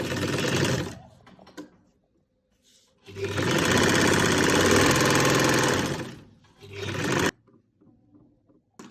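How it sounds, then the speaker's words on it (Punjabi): Sewing machine stitching the cuff of a salwar, running in loud close bursts of rapid mechanical whirring separated by short pauses, with no talking. "ਇੱਥੇ ਆਪਾਂ ਸਲਾਈ ਲਗਾ ਲੈਣੀ ਹੈ"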